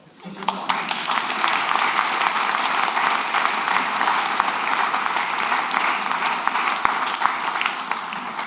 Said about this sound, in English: you can clap, sorry.